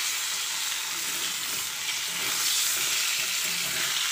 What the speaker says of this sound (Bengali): আমি কিন্তু এখন পটল ভাজছি